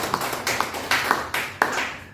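Church congregation at a worship service clapping hands, a few loud, spaced claps and bursts ringing out in a reverberant hall, fairly close and without talk.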